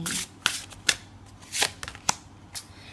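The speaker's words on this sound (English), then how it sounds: "we'll give the cards a good shuffle" A tarot deck being shuffled up close, with a series of sharp riffling bursts separated by quieter rustling, and no voices.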